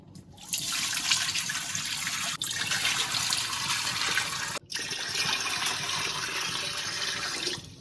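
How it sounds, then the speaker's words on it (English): Steady rush of water pouring into a metal steam canner over a jar rack, continuous and fairly loud with a brief break partway through. "I'm going to add 3 quarts of water"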